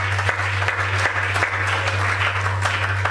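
A church congregation applauds in praise of the Lord, steady dense clapping filling the room throughout, with a low steady hum running underneath.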